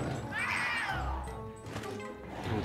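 A cat meows in Luigi's Mansion, a drawn-out, wavering cry that rises and falls over a game background with soft clatter, fairly faint.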